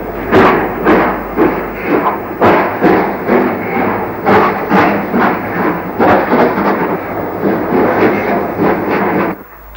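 A train runs through the closed Llanrhaeadr station on the former Denbigh, Ruthin and Corwen line without stopping, heard from on board as loud rhythmic wheel thumps and clatter repeating steadily before cutting off.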